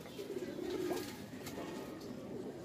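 Punjabi pigeon cooing softly at close range, a low murmuring coo rising briefly before fading, with steady background noise and no talk.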